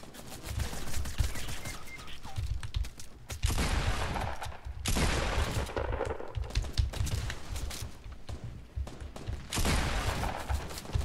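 Rapid gunfire in a shooter video game, dense bursts of automatic shots crackling almost continuously, with louder volleys rising and falling, close and heavy throughout.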